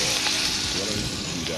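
Ham frying and browning in a pan gives a constant bright, crackling sizzle that stays close and even across the short moment, with faint stirring beneath it.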